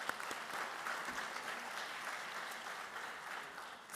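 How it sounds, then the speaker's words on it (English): An audience at a Teacher of the Year awards ceremony for Henry County Schools gives a steady round of applause, many hands clapping evenly for several seconds, moderately distant in a hall. "Let's give our elementary school teachers another round of applause."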